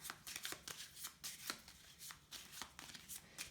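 A deck of oracle cards shuffled by hand in steady repeated bursts of papery rustling and flicking, close and soft, with no voices.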